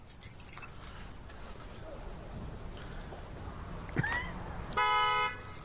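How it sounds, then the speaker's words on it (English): In a video game, a car alarm chirps from a key fob press to locate a parked car: a short bright chirp, then a steady tonal beeping burst, over faint background noise. "I pressed the button. To turn on the alarm so I could find my car."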